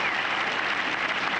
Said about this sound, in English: here's the applause for Payne Stewart at 17